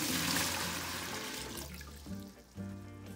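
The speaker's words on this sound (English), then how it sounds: "Now we're going to dump in 3 quarts of water, or about 100 ounces of dead weight." About three quarts of water are dumped into a bucket on a servo test bench, a fairly quiet rushing splash that tapers off into a few smaller sloshes.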